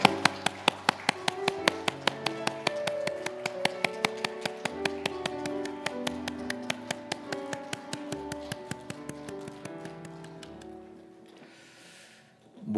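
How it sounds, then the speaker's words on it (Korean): Church congregation claps in steady rhythmic unison during a Sunday service, sharp regular claps over organ or keyboard music and singing, ending with a brief swell of sound. "하나님께 영광의 박수 올려드리겠습니다."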